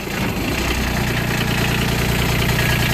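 A Kubota RTV900 utility vehicle's three-cylinder diesel engine, which has a leaking head gasket, runs at a steady loud idle with a rough, knocking rumble, close by and with no talk.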